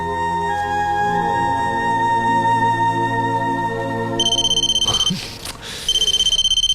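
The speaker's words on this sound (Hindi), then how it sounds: "ये फोन सुना?" A telephone rings with bright, rapid electronic trilling bursts, two rings separated by a short pause, coming in over a soft musical background.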